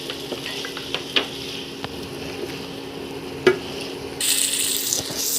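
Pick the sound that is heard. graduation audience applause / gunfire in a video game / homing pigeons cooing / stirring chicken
stirring chicken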